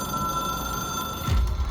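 An old-fashioned telephone bell rings steadily in the video game Control, a continuous bright trill held for over a second before a low thump breaks in.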